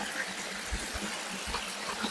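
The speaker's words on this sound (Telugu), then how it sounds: "ప్రస్తుతం వాటర్ ఫ్లో అయితే ఇలా ఉంది." Water runs at a stream by the Kasipatnam waterfalls near Vizag, giving a faint, steady wash of broadband flow throughout, with a few soft low thumps and no clear voices.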